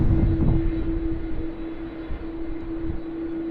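An aircraft passes at Sydney Airport, a steady distant engine drone with a sustained hum, fading slightly as it goes by.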